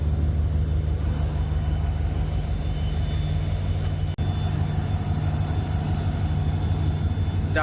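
Garib Rath Express (12502, Agartala–Kolkata) hauled by two diesel locomotives gives a steady, loud, close rumble with a low engine drone throughout, broken by a brief dropout near the middle.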